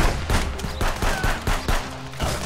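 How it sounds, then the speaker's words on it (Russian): Bursts of gunfire from the side in the video game Contraband Police, a rapid run of sharp shots spaced through the moment with a steady rumble of background noise. "Кто-то в меня с бочины стреляет."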